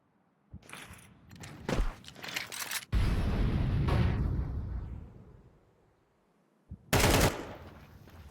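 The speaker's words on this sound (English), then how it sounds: "Big shots here from Dash" Gunfire from a CS:GO match in an ESEA Main playoff: two short bursts of close shots early on, a longer loud stretch of rattling fire and impact noise through the middle, then another sharp burst near the end, with no talk.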